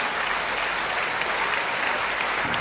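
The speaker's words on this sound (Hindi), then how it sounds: "तालियां थोड़ी कम थी" Steady applause from the audience at a Hindi hasya kavi sammelan comedy poetry show, a dense, even roar of clapping that fills the whole short stretch without pause.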